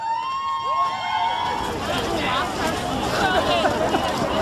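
A large rally crowd of about 50,000 people fills the air with a dense, continuous hubbub of voices, chatter and scattered cheering, with one or two brief whistle-like tones near the start.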